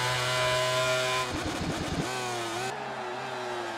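Suzuki motorcycle engine in the racing video game MotoGP 18, a high revving whine that holds steady, drops through a brief shift or rough patch, then carries on at a lower, slightly weaker pitch.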